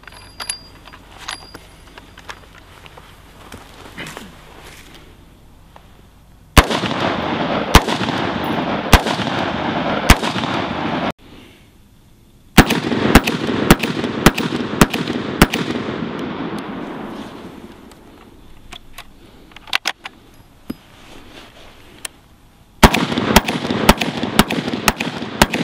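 Rifle gunshots fired with the Griffin Armament QD blast shield removed, loud sharp cracks in quick bursts with gaps between strings of shots, each echoing outdoors.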